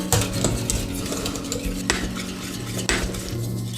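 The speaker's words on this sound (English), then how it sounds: "Stir until the mixture thickens" Egg yolk mixture being stirred into hot milk in a small pan, a steady scraping and clinking of a utensil against the pot with a low background hum, close and continuous with no talking.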